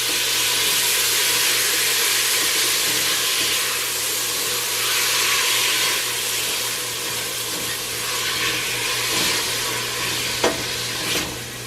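Salami soup (sopa de salchichón) cooking in a pot as it is stirred, giving a continuous dense sizzle and bubbling with soft scraping, steady in level, with a small knock near the end and no talking.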